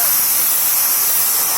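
Greenworks Pro 2200 PSI electric pressure washer spraying from about a foot away, a steady loud broadband hiss of water jet with no breaks, no voices over it.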